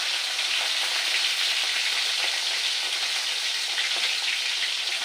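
Fish fries in a pan with a loud, even, continuous sizzle, close and steady throughout with no talk.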